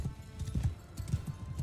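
Horses galloping in the Mount & Blade II: Bannerlord battle game, a quick drumming clip-clop of hooves that is close and fairly loud throughout the short stretch.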